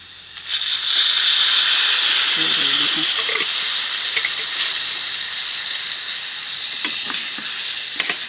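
Water poured into a pan of frying vegetables at a rainy forest campsite, a loud burst of sizzling and steaming hiss that settles into a continuous bubbling fry, with faint clinks of stirring.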